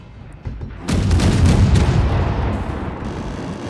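Missiles exploding in a Space Engineers WeaponCore skirmish battle: a soft thump, then a sudden loud burst of rumbling, crackling blasts that rolls on and slowly fades, with no voices.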